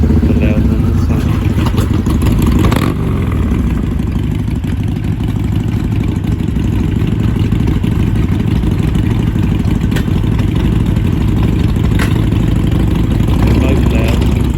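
Loud Harley-Davidson Sportster motorcycle engine idling close by, a steady heavy rumble with a mechanical clatter that carries on without a break, while people talk over it.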